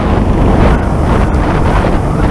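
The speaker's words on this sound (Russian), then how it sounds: "Погода испортилась, поднялся ветер, пошел снег." Loud, steady wind buffeting the microphone with a constant rumbling roar and no break, during a snowstorm.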